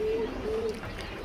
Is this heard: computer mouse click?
no